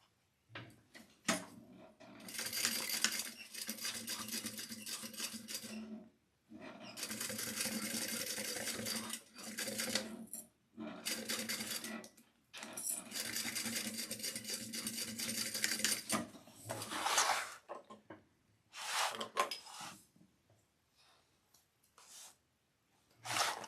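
A sewing machine of a different model than usual stitches a full-allowance seam on a Zalmora crossbody bag. It runs in close, steady bursts of several seconds, separated by short pauses and a few brief stop-start runs near the end.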